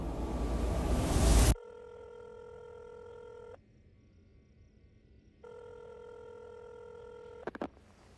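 A telephone call is placed: a burst of noise cuts to a steady ringing tone in two long rings separated by a pause, then a few brief clicks, with no voices.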